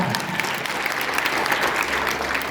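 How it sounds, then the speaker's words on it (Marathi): Steady, dense applause from an audience at a district-level student camp fills the whole stretch at close range, with no gaps and faint voices mixed in. "टाळ्या छान छान"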